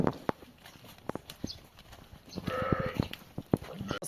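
A horse walks nearby among farm livestock, its hooves landing in irregular clip-clop thuds over a soft outdoor background with faint animal sounds.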